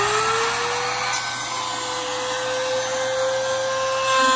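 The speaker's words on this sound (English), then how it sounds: "When we turn this router on, we'll just rotate around the whole thing and it'll cut our little slot for our rosette." A wood router spins up and runs steadily while cutting a circular rosette channel into an acoustic guitar top, a continuous high whine with broadband motor noise held at an even level throughout.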